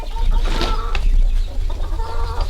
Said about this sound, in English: There's a rooster.